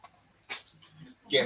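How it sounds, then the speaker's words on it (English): A big heavy dog gives brief whimpers and breathy snorts close by in a quiet room, with short gaps between the sounds. "This dog weighs a ton."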